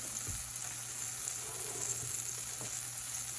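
Food sizzles steadily in a hot pan, a constant frying hiss with a couple of soft stirring knocks.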